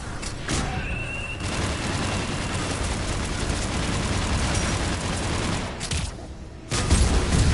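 Mass Effect 3 combat: sustained bursts of gunfire and heavy explosive booms roll on for several seconds, loud and dense, with a sharp blast near the end.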